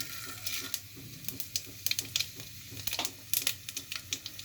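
Panch phoron spices hitting hot mustard oil in a pan, giving a crackling sizzle with scattered quick pops and spits, close and steady, with no talk over it.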